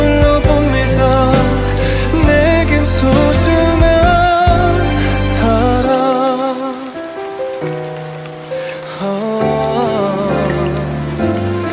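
Steady rain patters on a surface in a continuous wash, heard beneath a prominent Korean pop ballad from the Lovely Runner soundtrack, with sung vocals throughout.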